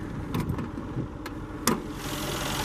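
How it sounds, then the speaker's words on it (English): A 2013 Mercedes-Benz G63 AMG with a hand-built twin-turbo V8 runs nearby, a steady close engine rumble with a few sharp clicks and knocks breaking through. "This one does have Mercedes-Benz twin-turbo V8, which is also a hand-built engine."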